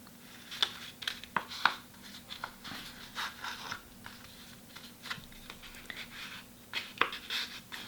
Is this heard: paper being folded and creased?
yes